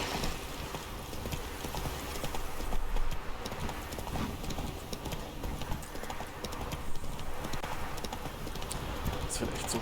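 Roach, the horse in The Witcher 3: Wild Hunt, gallops with rapid, rhythmic hoofbeats that sound close and continuous over outdoor game ambience.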